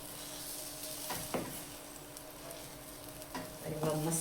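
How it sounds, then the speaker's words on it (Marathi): Semolina roasting in ghee in a kadai for a mango sheera, heard as a soft, steady sizzle with a few sharp stirring scrapes and clinks close by. "आता कढईत 2 चमचे साजूक तूप टाकून घेऊया."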